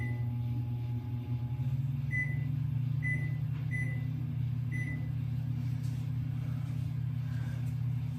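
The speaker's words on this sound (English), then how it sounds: "I don't like that microwave." A microwave oven running with a steady low electrical hum and drone, close and continuous, with a few faint high beeps spaced through the middle.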